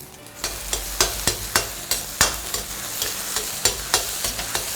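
Eggs fry in oil in a wok under a continuous bright sizzle. A spatula knocks against the pan about a dozen times in a fairly regular rhythm, loud and close.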